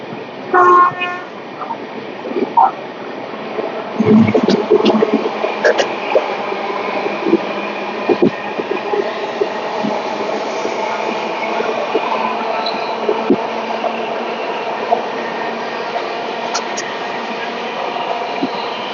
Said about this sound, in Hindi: यहाँ से ट्रेन ने अब एक्सीलरेशन लिया।